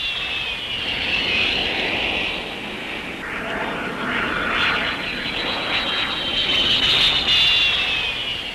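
A training aircraft's engine droning steadily during a spin-recovery test flight, a continuous loud roar with slowly shifting pitch throughout.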